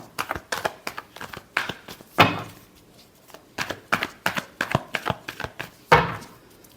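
Tarot cards being shuffled, rapid papery flicks and riffles in quick rhythmic runs, broken by two louder swishing bursts, close and fairly quiet with no talk over them.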